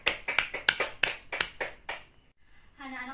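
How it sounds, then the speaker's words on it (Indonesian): Schoolchildren clap together in a classroom, a quick run of about a dozen sharp claps that thins out and fades, followed by a short spoken word. "beri tepuk tangan untuk kita semua"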